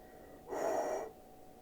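A person imitates Darth Vader's heavy mechanical breathing: a single loud, close, raspy breath roughly half a second long, standing alone against a quiet background with no talk.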